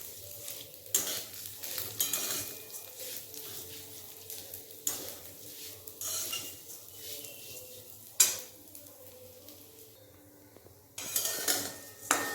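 Vermicelli frying lightly in hot oil over a low gas flame, with soft steady crackle, intermittent stirring scrapes and metal utensil clinks against the pan, loud bursts of scraping recurring every few seconds.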